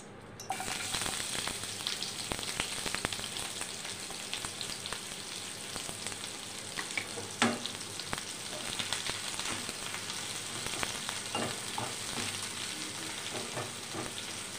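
Onions frying in a pan, a steady close sizzle that holds for the whole stretch with small crackles and the odd stir or scrape, no voices.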